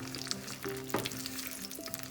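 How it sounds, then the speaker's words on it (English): Cut brinjals frying in hot oil on a low flame, a steady soft sizzle throughout with a few brief stirring clatters, fairly quiet and with no talking. "you can add 3 cut brinjals to this and we are going to fry them"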